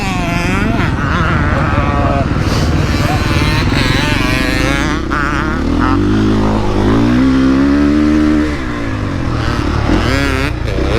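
A 2020.5 KTM 450 SX-F Factory Edition motocross bike's engine runs loud and close throughout, holding a steady drone with rising revs in the middle stretch, under voices talking.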